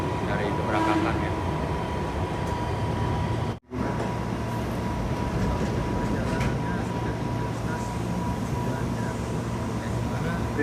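A KRL Commuter Line electric train running from Bogor to Jakarta Kota, with a steady interior rumble and hum throughout and a brief dropout partway.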